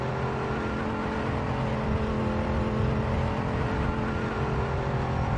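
Original Mercedes AMG GT3 race car in Assetto Corsa Competizione, its engine droning steadily and loudly at high revs throughout, with no voices over it.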